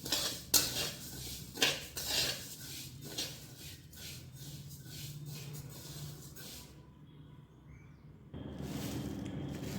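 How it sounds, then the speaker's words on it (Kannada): Cumin seeds dry roasting in a pan over a low flame for homemade red chilli masala powder, with scraping stirs and sharp metallic clinks of a utensil against the pan early on, then a quieter, softer rustle. "ಸಣ್ಣ ಉರಿ ಇಟ್ಟರೆ ಫಸ್ಟ್ ಜೀರಿಗೆ ಹುರ್ಕೋಬೇಕು ರೀ"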